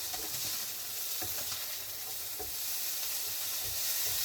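Mince and vegetables sizzle steadily in a pan, a dense continuous frying hiss with occasional stirring scrapes and knocks, close and fairly loud throughout.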